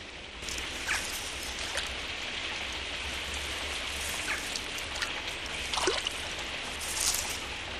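Steady rain falls at a fishing lake, a dense continuous patter of drops on water and surfaces, with occasional louder splashes and drips standing out close by.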